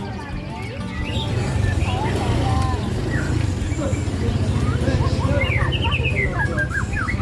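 A lory parrot calls at a Malang bird market, its sharp repeated squawks and chirps rising from a busy, murmuring crowd with other birds and people talking around it.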